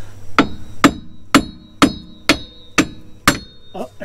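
A hammer strikes a Jeep driveshaft to tap out its U-joints without a press: seven sharp, loud metallic blows at an even, steady pace, followed by a brief rattle.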